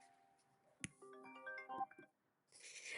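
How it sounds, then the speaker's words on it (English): A phone ringtone plays a quick melodic run of bright tones, fairly quiet in a still room, followed by a burst of soft hiss. "there's my phone going at the same time"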